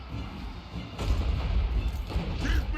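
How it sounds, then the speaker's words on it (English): Artillery in the video game Total War: Warhammer 3 sounds as a loud, continuous barrage of heavy booms and rumbling impacts over a dense battle din. "Wow, that's a lot of artillery."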